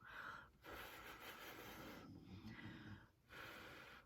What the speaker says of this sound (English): I apologize for the snoring in the background.